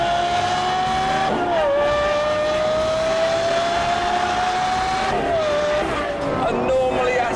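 Normally aspirated 4.8-litre V10 race car engine revving hard, a loud sustained high-pitched wail with rising and falling pitch and brief dips on gear changes, close by throughout.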